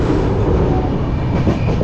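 A passenger train heading toward Thrissur rumbles loudly and steadily from inside the carriage, with a low continuous roar and faint rattling.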